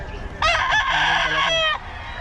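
A young gamecock, a stag about two years old, crows once close by, a loud harmonic call lasting over a second, against a quiet outdoor background.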